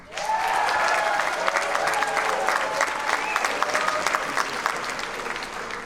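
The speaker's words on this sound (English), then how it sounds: "I'm not sure I know what that was, but cheering is fine." An audience at a high school graduation applauds steadily with scattered cheers, a dense crowd clapping that swells quickly and holds throughout.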